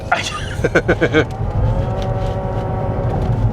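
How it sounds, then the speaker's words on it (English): Hydrogen car accelerating hard from a turn with a brief tire spin, engine and road rumble loud and close from inside the cabin, a voice speaking over the opening moments. "Oh, I just spun the tires, Mike."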